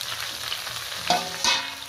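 Pumpkin, ridge gourd and long beans frying in a pan with little oil, giving a bright, hissing sizzle and two short scraping stirs near the end, close up, no voices.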